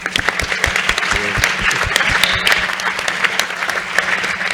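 An audience applauds after a startup acceleration talk on product market fit, steady clapping filling the room with a few sharper individual claps standing out nearby and a faint voice underneath.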